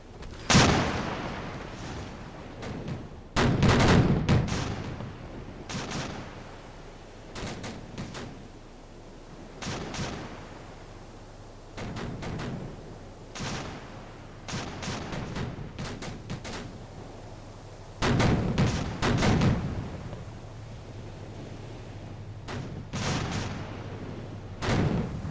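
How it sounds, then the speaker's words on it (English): Warships trade naval gunfire in the World War II game Victory at Sea Atlantic, with repeated deep booming cannon blasts and rumbling explosions spaced irregularly across a low background, some heavier salvos standing out. "Even the ships themselves are returning fire."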